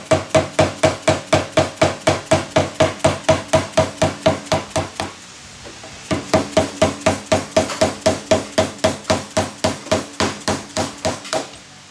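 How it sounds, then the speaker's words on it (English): A flathead screwdriver works a dust cap off a Bilstein 7100 remote reservoir shock body, with sharp, evenly spaced metallic taps at close range, a brief pause midway, then the steady rhythm resumes. "take a flathead screwdriver, place it in between the dust cap and the shock body, and just kind of follow it around"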